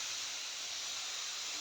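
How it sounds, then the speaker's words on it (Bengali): Milk poured into a pan of fried cauliflower gives a faint, even hiss of steam, a brief steady wash with no other sounds. "সুন্দর ভাজা হয়েছে, এবার আমি লিকুইড দুধ দেবো।"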